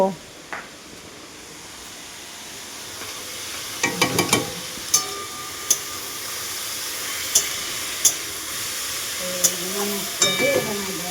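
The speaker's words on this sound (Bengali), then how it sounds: "এদিকে আলু ভাজা হচ্ছে আর এদিকে পটলটা ভাজা হচ্ছে" Potatoes and pointed gourd fry in a pan with a soft, steady sizzle and hiss, broken by sharp clicks and taps of a spatula, while a voice speaks at times.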